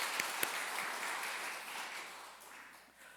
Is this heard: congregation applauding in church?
yes